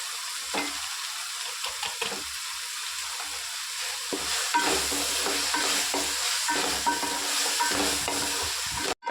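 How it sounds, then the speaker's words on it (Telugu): Tomato masala with biryani spice sizzles steadily in a pan for chicken pulao, while a spoon scrapes and stirs through it in repeated close strokes. "టమాటా కూడా బాగా మెత్తబడిపోయింది కదా ఇప్పుడు కొంచెం బిర్యానీ మసాలా వేసుకుందాము"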